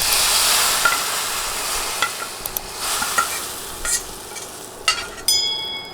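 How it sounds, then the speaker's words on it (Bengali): Hot tempering spices poured over simmering lentils for a dal and egg dish, sizzling loudly at first and then settling into steady frying with stirring scrapes and clinks of a spoon in the pot. "এখন রান্না হতে থাকা ডালের উপর ফোড়ন দিয়ে দিব।"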